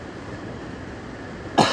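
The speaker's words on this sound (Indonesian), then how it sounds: "Maaf lagi batuk" A single short cough near a workbench during electronics repair, sudden and close after a steady low hum.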